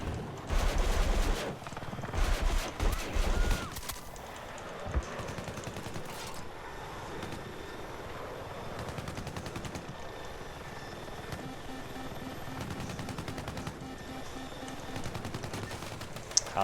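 An attack helicopter comes under gunfire in Battlefield 6. Heavy bursts of machine-gun fire sound up close at the start, then give way to a steady rotor drone with scattered shots and rattles.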